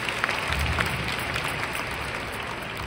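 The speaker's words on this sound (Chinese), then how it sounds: "所以需要给雷伟一个掌声。" An audience at a leadership training meeting at MITEC in Malaysia breaks into sustained applause, a dense wash of many hands clapping at once that holds steady for a few seconds.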